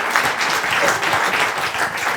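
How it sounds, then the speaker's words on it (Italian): Audience at a cultural happening applauding on request, a dense, sustained patter of clapping from many hands that holds steady at moderate loudness with no speech over it. "un applauso da attore me lo potreste fare"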